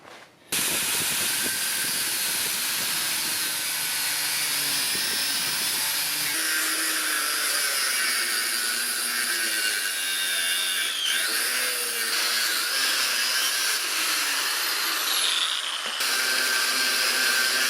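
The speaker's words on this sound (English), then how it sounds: "I'm just going to cut these off the ends." A power tool cuts the ends off a san mai Damascus steel billet, giving a continuous loud high-pitched whine and hiss that holds steady for many seconds after a brief start.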